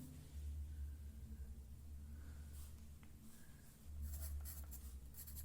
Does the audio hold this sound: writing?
yes